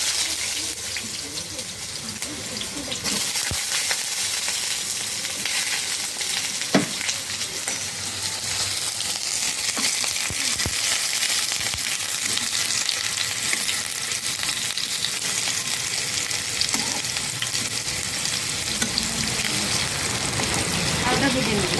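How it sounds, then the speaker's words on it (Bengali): Potatoes fry in hot oil with a steady, loud sizzle that runs unbroken throughout, a cook's voice briefly audible over it for rohu fish curry with green banana. "আলুটা ভেজে নেব।"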